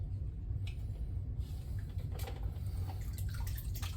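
Fluval 407 aquarium filter sponge rinsed in treated water, a faint continuous sloshing and swishing of water with soft splashes, quiet and close.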